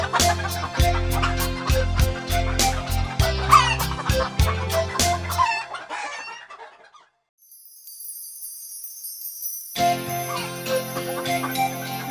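A cartoon hen clucks over bright nursery-rhyme music, then the music stops for a brief near-silence before a high tinkling tone and the music return.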